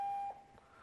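An electronic device emits a single sustained high beep during a conference tech presentation, loud and clean, cutting off sharply to leave quiet room tone.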